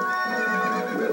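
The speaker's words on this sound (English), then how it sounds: "My horse is right here." Horse in the video game Zelda: Twilight Princess neighing with a bright, wavering whinny that carries steadily for about a second, loud and close with no talk over it.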